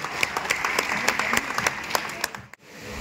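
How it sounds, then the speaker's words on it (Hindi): An audience at a cultural program in Patna, held by the state art, culture and youth department, claps loudly. The dense burst of applause runs about two and a half seconds, then cuts off abruptly. "आप लोग जोरदार तालियां बजाइए।"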